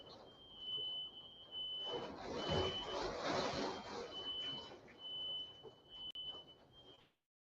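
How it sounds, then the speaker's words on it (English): A steady, high-pitched smoke alarm tone sounds repeatedly in short beeps under a rushing, noisy background that swells and fades before cutting out. "my damn smoke alarm going off"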